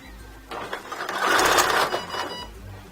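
A sewing machine stitches fabric and elastic for a blue and white sports bra, a close, steady whirring run that builds and holds for a couple of seconds before easing off.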